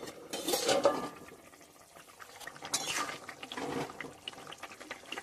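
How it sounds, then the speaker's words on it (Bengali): Thin catla fish curry broth with raw mango and potatoes bubbles in a covered pot, a soft liquid burble with occasional clinks of pot and lid, moderately quiet, no voices. "ঝোলটা ফুটে উঠেছে"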